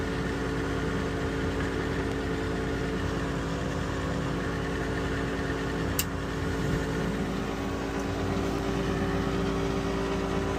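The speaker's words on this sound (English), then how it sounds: "This fan sounds tired, man." A Weil McLain HE boiler's combustion fan runs steadily after ignition, a continuous droning whir with a sustained tonal hum and no variation, alone at close range.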